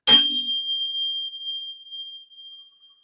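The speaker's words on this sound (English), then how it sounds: "throughout the meditation, I use these bells, which sound like this." A single meditation bell is struck once, a bright metallic strike followed by a long, pure ringing tone that slowly fades away.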